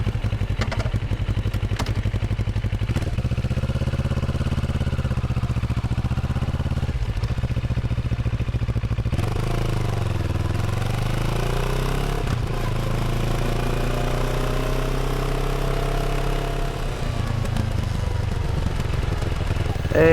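A 2022 CFMoto 650 ADVentura motorcycle rides along a road, its engine droning steadily and close throughout, with pitch rising and falling through gear changes and revs over constant wind and road noise.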